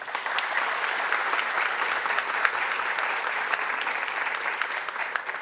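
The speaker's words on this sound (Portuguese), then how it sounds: "uma salva de palmas." Steady, dense applause from a ceremony audience marking an organization's 70th anniversary, a continuous even wash of many hands clapping with no talk over it.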